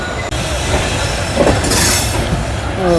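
A passenger train rolls into Rajgir railway station with a steady loud rumble of wheels on rails, faint clickety-clack and a brief squeal of wheels near the end, with no talking.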